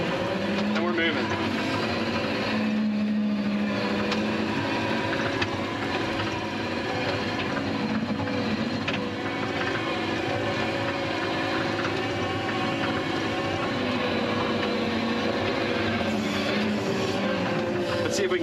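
The engine of a Kioti TL750/SL750 skid steer loader runs steadily at raised RPM as the machine drives. The drone is loud and continuous throughout, with a person talking over it at times.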